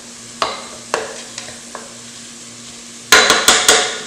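Chili pepper and garlic being stirred in a cooking pot, with a utensil knocking the pot in separate scrapes and taps, then a quicker burst of clattering strokes over a steady background hiss.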